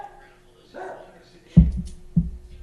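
Two sharp, close dog barks about half a second apart, following a stretch of quiet background murmur.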